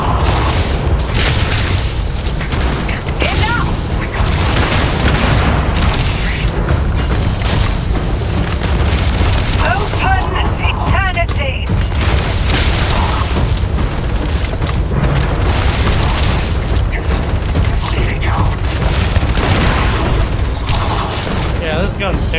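A legendary gun in Starfield fires in heavy repeated booming bursts over nearly half a minute, loud and continuous amid other combat noise, with a voice talking over it.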